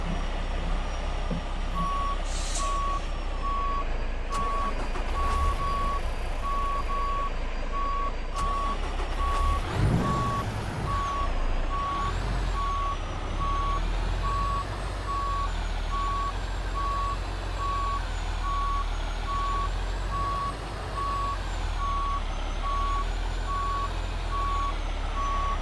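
A truck in American Truck Simulator backs its trailer into a tight spot, with a steady electronic reversing beep pulsing over a constant low engine drone and brief hisses of air brakes.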